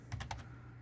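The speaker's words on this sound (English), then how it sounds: "you're going to type in folder view" Brief burst of three or four quick keystrokes on a computer keyboard while typing a search into a Windows folder, close and crisp, then quiet room tone.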